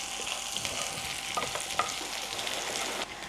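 Shallots frying in a pan for a dry prawn curry, with a close, steady sizzle and crackle punctuated by light stirring scrapes, and no voices.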